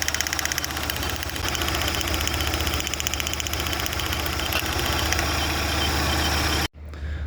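A car engine idles roughly, misfiring with a steady, uneven sputter from the exhaust and a shaking vibration, close and continuous before it cuts off abruptly near the end.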